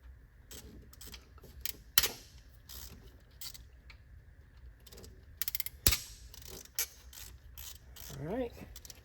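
A T30 Torx driver cracks loose engine bolts on a 3.6 Pentastar, giving a few sharp metallic snaps and ratchet clicks amid scattered close tool rattles and rubbing, with no talk.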